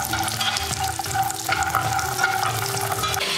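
Steady sizzling and crackling of nuts frying in coconut oil in a pan, continuous and fairly loud, with no voices.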